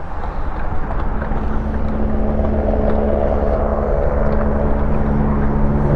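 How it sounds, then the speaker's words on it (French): A helicopter flying over a cycling race gives a loud, steady, rumbling drone with wind buffeting throughout, constant and close with no gaps. "l'hélicoptère qui dit bonjour"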